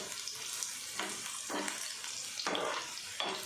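Onion, chilli and garlic sizzling in hot oil while tempering dal, a bright crackling hiss that swells in several short bursts over a few seconds.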